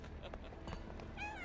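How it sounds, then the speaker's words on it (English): A cat meows in the Sherlock Holmes The Awakened video game, a short series of plaintive mews ending in a rising, wavering call over a soft game ambience. "Kitty!"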